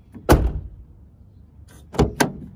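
A car door latch releases with a sharp metallic clack, followed after a pause by two quick thuds as the door swings shut, close and fairly loud with no talk.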